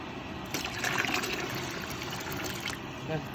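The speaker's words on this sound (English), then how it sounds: "We're gonna cover them up until there's at least 1 inch of water over the top of the jars" A steady stream of water pouring into a large water bath canner over jars, continuous and fairly quiet, with a soft splashing texture throughout.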